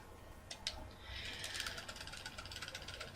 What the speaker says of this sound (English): you can probably hear my controller clicking right now